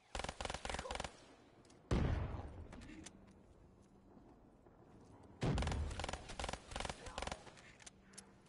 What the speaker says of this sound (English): The explosion is intense!